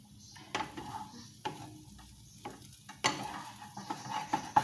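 Rice mixed with egg is stir-fried in a pan with no added water, giving a soft sizzle broken by repeated scraping and stirring strokes of a utensil against the pan, close up and with no voices.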